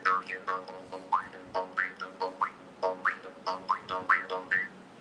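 A traditional Tamil instrument made from a palm-leaf strip is played up close in a steady, lively rhythm: a quick run of twangy, buzzing, boing-like notes.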